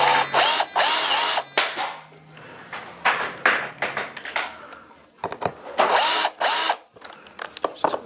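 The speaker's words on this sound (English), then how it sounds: "Just get all the screws partly in place so we get the hanger nicely aligned." A power drill driving screws into a shadowbox frame, in several short whirring bursts with pauses and stops between them, close and loud, with no voices.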